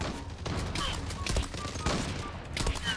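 Rapid bursts of gunfire crackle through a Gallipoli war video game battle, loud and nearly continuous with overlapping volleys and machine-gun rattle over three seconds.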